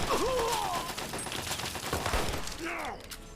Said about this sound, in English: I shot his gun out of his hand